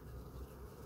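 Honey bees buzz in a steady low hum around five-frame beehive frames holding honey and pollen during an autumn hive check, with a dense, continuous drone and no talk.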